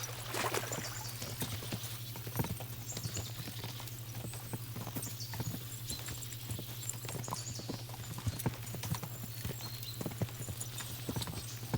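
Horses gallop with steady clip-clop hoofbeats in the medieval game Kingdom Come Deliverance 2, a continuous rhythmic patter of hooves over a constant low hum, with no talking.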